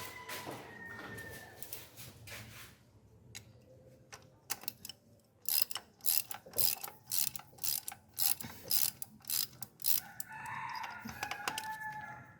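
A ratchet loosens a part on an Audi 3.0T engine, its clicking coming in quick repeated bursts with pauses between strokes, close and fairly loud, with faint metallic mechanism sounds around it.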